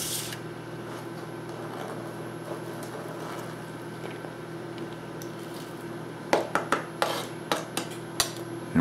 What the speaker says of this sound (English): we're going to chop up another white onion.